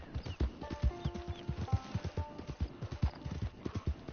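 Horse hooves clip-clop steadily in the video game Red Dead Redemption 2, a brisk, even rhythm of close, clear footfalls that runs throughout with a faint tone underneath.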